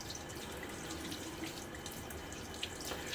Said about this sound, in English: Got to rinse off my hands and the brush handle.